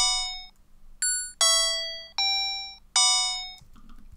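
Quantized MIDI melody played with Disney toy keyboard samples: bright, bell-like synthetic notes strike in a steady sequence, each ringing and decaying cleanly, with no voices over them.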